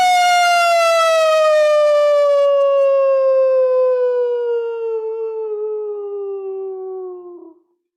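A person imitates a wolf during a full-moon howling session, one loud, sustained human howl that slowly falls in pitch for about seven seconds before cutting off.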